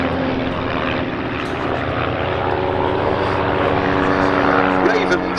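Propeller display aircraft flying at the Duxford air show, a loud continuous engine drone with shifting pitch as formation members break and climb, under a commentator's voice.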